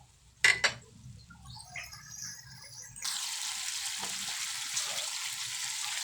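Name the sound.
water poured into pan of sautéed bottle gourd with sardines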